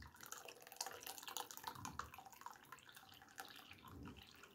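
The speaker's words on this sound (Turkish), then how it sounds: "su ekleyeceğim" Water pouring into a pot of Turkish cabbage dolma, a quiet, continuous trickling splash with drippy, uneven texture.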